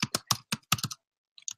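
Typing on a computer keyboard, a quick run of close, crisp key clicks followed by a short pause and a few more taps, with no voices.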